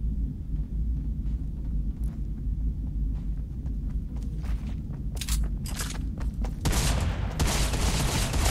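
Gunfire from Fortnite sounds as a series of sharp cracks over a dense, rumbling game soundscape, followed by a louder burst of blasts near the end.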